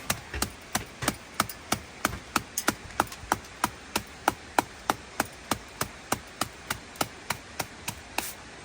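Lime mortar pointing being beaten back with a tool, giving a steady run of about twenty sharp, evenly spaced knocks, close and distinct over quiet background, with no talk.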